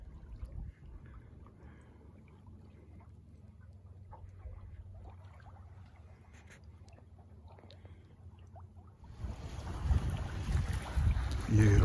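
Catalina 30 sailboat under way on Lake Pend Oreille in 8 to 10 knots of wind, a low steady rush of wind and water around the hull that swells into loud gusty wind buffeting the microphone near the end.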